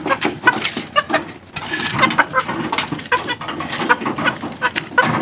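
A pet chicken being handled on a Philippine farm clucks close by in repeated short, uneven bursts, loud and busy throughout.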